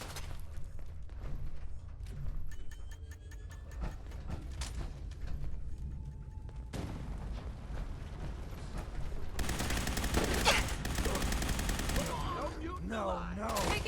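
Gunfire in the video game Fallout 4, heard as rapid bursts and repeated shots mixed with mechanical clatter and game effects, with voices speaking over parts of the action.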